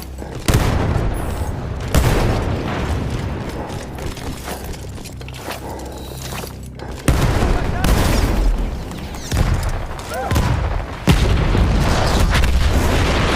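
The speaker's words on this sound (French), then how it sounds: "Faire sauter le canon." Cannon blown up in Battlefield 1, a World War I shooter: loud booming blasts and gunfire bursts recur through the scene, with heavy low rumble between the hits.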